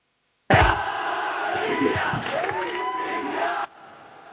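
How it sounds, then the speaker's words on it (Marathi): A dense crowd at the T20 World Cup victory parade on Marine Drive, Mumbai, erupts in loud sustained cheering and shouting for about three seconds, then cuts off to a low murmur. "लोक त्या सर्व गाड्यांना चेअर करत होते"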